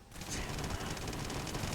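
The Snubbie shotgun in Starfield fires exploding rounds in a rapid, dense burst of blasts and crackling detonations, loud and close, with no talk.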